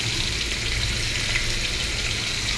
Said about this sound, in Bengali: এর মধ্যে আমি পেঁয়াজ কাটা এবং কাঁচামরিচ কাটা দিয়ে দেবো কিছুটা